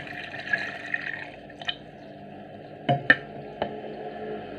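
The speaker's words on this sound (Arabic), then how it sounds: "هانتوما شوفوا كنضيفوا ليه الماء ديال السفرجل" Quince cooking water is poured into a pot, giving a short soft liquid trickle followed by several sharp clinks and knocks of kitchenware in a quiet room.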